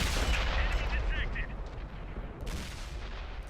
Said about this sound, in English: I fired, the first shot misses and hits the rock